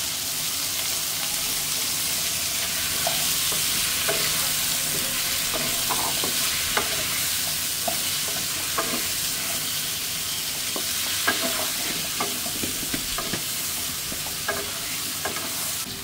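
Pumpkin curry is stirred and mixed in a pan over a constant sizzle, with frequent spoon scrapes and taps against the metal at an irregular rhythm.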